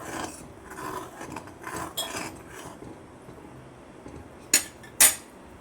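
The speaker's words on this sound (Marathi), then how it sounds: "परत हलवून घ्यायचं आहे व्यवस्थित" A spoon stirring egg curry in a pot, soft scraping and rubbing strokes, then two sharp metallic clinks near the end, close and alone without talk.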